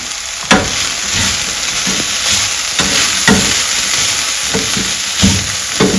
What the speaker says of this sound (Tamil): கரம் மசாலா, பிளெயின் மிளகாத்தூள் போட்டு நல்லா கிளறி விடுங்க.